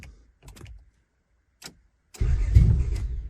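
A 1996 Honda Odyssey RA1 engine cranking without starting, with a kill switch engaged, a rough mechanical churn lasting about a second after a few faint clicks and taps, close and moderately loud.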